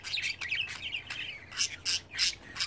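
Pet budgerigars, among them a green male, squawk and chirp in a run of sharp, harsh calls, with quick twittering at first and then several loud, evenly spaced squawks close by.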